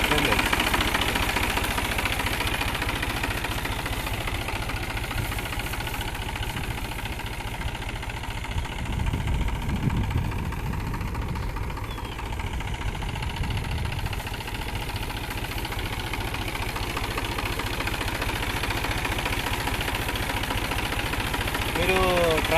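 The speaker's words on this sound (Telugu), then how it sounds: "మీరు ట్రాక్టర్లో నాయిస్ కానీ వైబ్రేషన్ కానీ ఇవన్నీ నోటీస్ చేసుకోవచ్చు" A New Holland tractor engine idling, a steady mid-pitched rumble with vibration that runs continuously throughout at close range, with a brief louder low surge near the middle.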